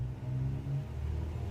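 A Cessna 172 bush plane's piston engine idles in a flight simulator game, a steady low rumbling drone with a slight throb, fairly loud and close, with no talking.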